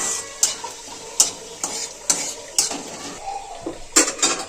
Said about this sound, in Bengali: দেখো শুকনো লঙ্কা আর 5 ফোড়ন। নেড়ে ছেড়ে ফোড়নটাকে ভেজে নেব।